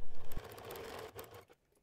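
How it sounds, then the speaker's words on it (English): A sewing machine stitching through the layers of a small quilted zipper pouch, a rapid mechanical whirring burst heard up close that runs for just over a second before stopping. "I'm guiding the fabric through the sewing machine"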